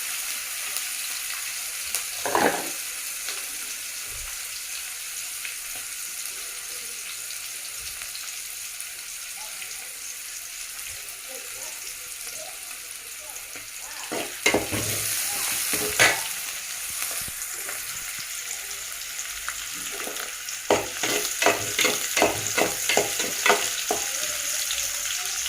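Food fries in a pan under a low, steady sizzle, with a single scrape early on, then bursts of stirring and rapid clattering strokes in the second half.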